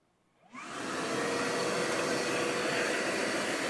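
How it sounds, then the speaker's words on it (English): An EGO 56V 9-gallon wet/dry shop vacuum spins up into turbo mode, rising quickly to a steady, loud, full-bodied whooshing roar that holds evenly to the end. "let's go ahead and go to turbo mode and see how long it takes to suck up these 5 gallons"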